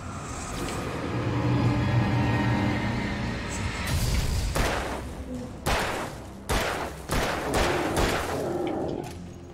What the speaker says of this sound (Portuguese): Dei 6 tiros e nada.